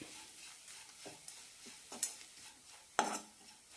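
Jaggery syrup being stirred with cumin and dry ginger powder off the heat, soft swishing with a few sharp clinks of a spoon against the metal pan, quiet and close.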